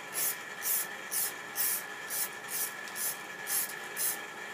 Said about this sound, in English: Clear high gloss lacquer spray.